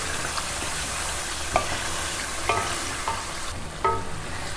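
Masala frying in a pan for a chicken and cauliflower curry, a steady loud sizzle throughout, broken by a few scraping strokes of a spoon stirring through the mixture.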